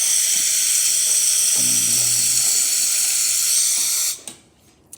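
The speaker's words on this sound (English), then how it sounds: "As you can see, it's a nice steady steam coming out through the machine." A Jura coffee machine, just serviced, sends out a loud, steady hiss of steam that runs continuously for about four seconds, then cuts off abruptly into near silence.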